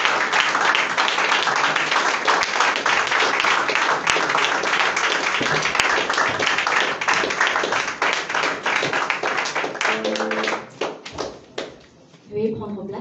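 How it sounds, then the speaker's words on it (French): An audience at an after-work political gathering applauds a candidate, dense sustained clapping across most of the stretch, then thinning into scattered claps and a few voices near the end. "on applaudit très fort pour le président leader Mike Johnson"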